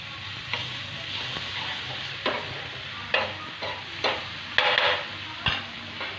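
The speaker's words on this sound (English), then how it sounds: "Then take just little bit of bhaji and spread it on the tawa." Pav bhaji spread with butter across a hot tawa sizzles steadily, broken by a string of scraping spatula strokes that grow sharper toward the end; no one speaks.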